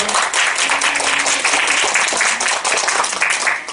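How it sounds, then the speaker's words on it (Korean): Dense, loud applause from a health-lecture audience welcoming the head of an organ transplant center, steady and close for several seconds without talk. "박수로 맞이해 주십시오"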